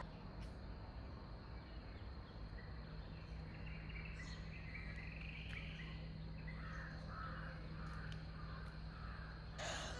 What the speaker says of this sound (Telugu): సో వింటున్నారు కదా సౌండ్, బర్డ్ సౌండ్, నేచర్ చాలా బాగుండింది